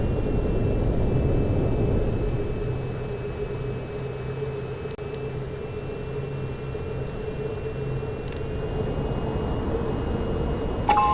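Steady jet aircraft engine roar during a climb after takeoff in the flight game VTOL VR, a broad constant whine and rumble with no talk, swelling slightly toward the end.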